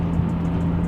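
A BMW 340 with a freshly rebuilt engine idling while warming up on a cold 33-degree day, a steady close low hum with a faint pulsing beat.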